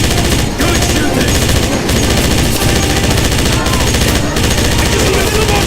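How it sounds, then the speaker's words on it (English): Rapid automatic gunfire rattles loudly and almost continuously in a train station battle in the video game Wolfenstein (2009), with short pauses between bursts. "Good shooting! Hold him up a little longer!"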